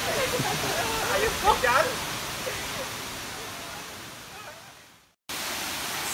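Kuang Si waterfall near Luang Prabang, Laos, roars as a steady broadband rush of falling water, loud and continuous, with a brief question spoken over it early on and a short dropout near the end.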